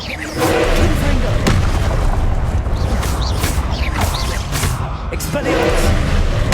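An explosive Confringo spell bursts in a Harry Potter video game, loud, dense booming blasts rumbling on with voices shouting in the mix.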